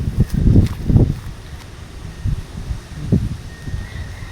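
Strong wind left behind after typhoon Uwan, gusting in uneven low buffets against the microphone, with rustling and faint movement noises between the stronger blasts.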